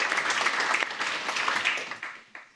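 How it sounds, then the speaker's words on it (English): An audience at a panel discussion on Swedish strategic technology applauds the guests with a brief burst of many hands clapping. It holds steady for a moment, then tapers quickly with a last stray clap. "Give them a round of applause."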